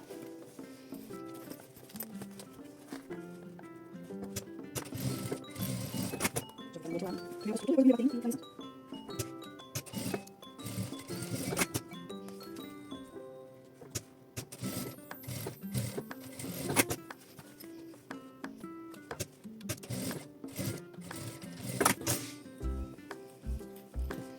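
A domestic sewing machine stitches bias binding onto a lining, bursts of fast mechanical clatter that start and stop, with a few faint knocks near the end.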